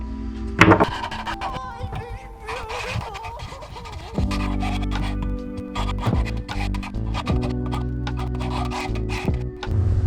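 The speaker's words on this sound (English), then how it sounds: "Now I gotta just sand it to make it look all good." Sandpaper rubs back and forth over a hand-carved wooden glide bait fishing lure, a steady scratchy rasp that runs through most of the stretch with a low droning hum beneath it and a few louder knocks.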